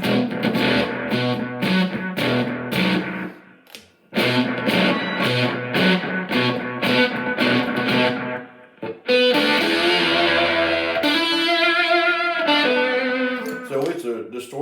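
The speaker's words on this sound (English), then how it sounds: "So it's a distortion pedal, but more." A loud electric guitar through an octave fuzz pedal with thick, fuzzy distortion plays chugging chords, pauses briefly, then shifts to sustained, high-pitched lead notes.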